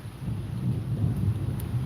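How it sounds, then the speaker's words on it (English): Rain falls outside with a low, rolling rumble of thunder, a soft, continuous wash of sound heard from indoors without any talking. "Meanwhile, it just keeps raining and raining."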